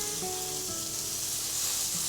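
Steak and vegetables sizzle steadily on a smokeless indoor grill, a close, continuous crackling hiss with no talking over it.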